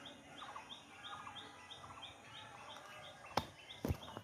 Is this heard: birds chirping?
yes